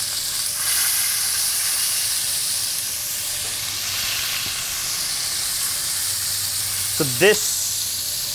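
Short ribs sear and caramelize in a hot pan with a steady, close sizzle and hiss that runs throughout, while a voice speaks briefly over it.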